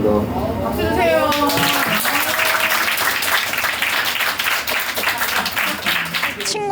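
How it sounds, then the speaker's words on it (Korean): Middle school students and audience applaud at a school presentation event, a steady dense wash of clapping that fills the clip, with a voice and some tonal sounds audible early on. "박수 주세요"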